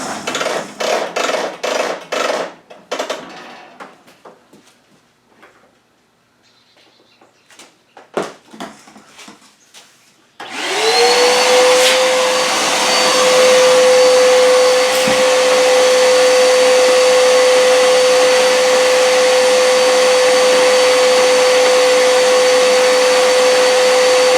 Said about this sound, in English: Let's get the vacuum.